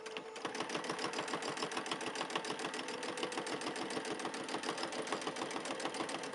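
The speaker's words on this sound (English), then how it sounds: "So I'll start sewing around here with my free motion quilting stitch." A sewing machine doing free motion quilting runs steadily with a fast, even needle rhythm, a close mechanical chatter that continues without pause from start to finish.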